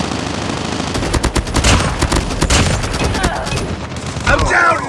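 Loud, dense gunfire in a 10 vs 10 Call of Duty match on the Rust map: rapid automatic bursts and overlapping shots crackle almost without pause, with brief gaps and faint voices mixed in.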